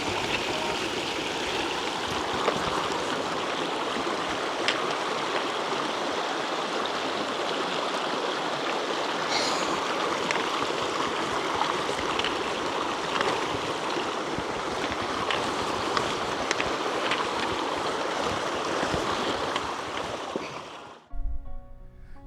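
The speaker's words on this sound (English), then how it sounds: "trying to find somewhere to cross this bloody river" A rushing river in the Scottish Highlands roars in a loud, unbroken wash of churning water, steady and close for the whole stretch before cutting off abruptly at the end.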